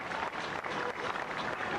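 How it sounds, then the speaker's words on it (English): Faint audience applause at an outdoor marijuana march rally in Cincinnati, a steady patter of clapping heard from a distance for about two seconds. "Please give her another round of applause."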